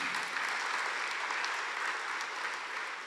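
A church congregation applauds during a Spanish-language sermon, a steady wash of clapping at moderate level with no break, heard alone.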